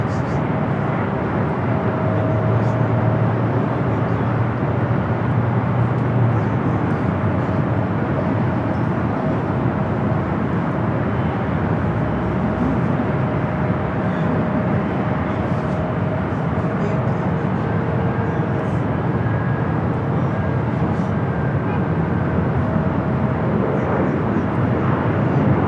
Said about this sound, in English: Lined up. Heading to San Salvador, flight 5 at 23, an A320 Neo.